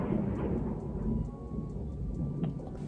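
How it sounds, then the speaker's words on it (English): Low rumbling thunder from a thunderstorm outside, a steady dull roll lasting throughout, muffled and distant. "just try not to think about or listen to that thunder out there"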